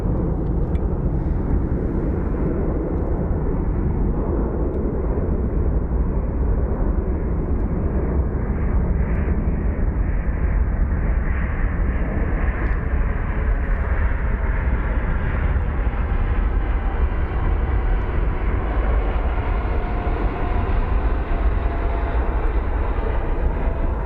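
Small planes landing at Phoenix Sky Harbor International Airport, heard as a steady, continuous roar of aircraft engine noise that holds throughout, with no talking.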